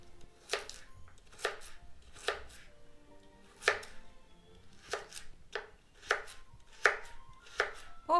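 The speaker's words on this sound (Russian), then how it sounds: "И нарезаем слайсами." A knife slices a carrot into rounds on a cutting board, about nine crisp chops at an uneven, unhurried pace, close and clear with no talking.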